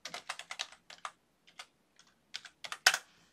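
Close, quiet bursts of computer keyboard typing as a layer name is entered, with uneven clusters of key clicks separated by short pauses and a final firmer keystroke.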